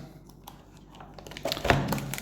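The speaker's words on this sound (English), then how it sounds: "Always packaged from China in nice plastic bags." Plastic bag packaging around a Kirisun PT260 handheld radio crinkles and rustles up close, starting quiet and sparse, then growing into a louder burst of crackling handling.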